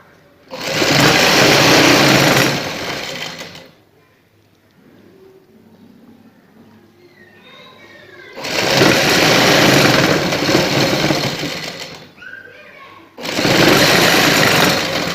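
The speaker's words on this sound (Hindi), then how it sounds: "इस तरीके से सिलाई लगाएंगे इसको।" A sewing machine stitching a decorative pattern on a shalwar hem runs in three loud bursts of rapid whirring, separated by quieter pauses where fabric is handled and someone speaks.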